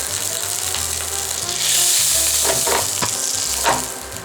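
Pork chops searing in butter in a very hot cast iron skillet, a loud continuous close sizzle that swells midway, with a few crackles and spatters.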